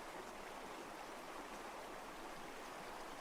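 A waterfall rushes in a continuous, even roar of falling water, steady and fairly close, with no voices.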